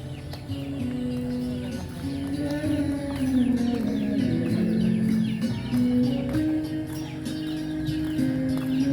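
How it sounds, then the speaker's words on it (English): Chickens cluck and roosters crow amid a busy outdoor background in Victorias, Negros Occidental, Philippines, the calls fairly close and overlapping throughout. "And here are some roosters."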